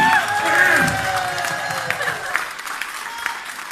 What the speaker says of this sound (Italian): Naturalmente gli applausi saranno vigorosi, fragorosi.